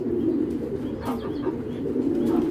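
Racer pigeons coo steadily in a loft, a continuous low burbling murmur from several birds close by, with faint higher calls and flutters breaking through near the middle and end.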